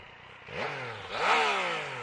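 A Yamaha MT-09 Tracer three-cylinder motorcycle revs up twice while riding, engine pitch climbing sharply each time into a loud, raspy howl before easing off.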